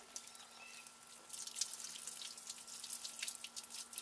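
A baking soda and water solution is poured over a car battery tray, giving a faint, fizzy trickling and dripping of liquid that builds slightly after the first second, with no voices.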